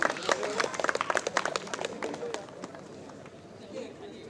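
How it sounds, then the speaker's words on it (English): Audience applause at an environmental run event, a burst of clapping from a crowd that is loudest at first and then thins and fades over a few seconds, with voices mixed in. "Please, a round of applause for Tata BlueScope Steel"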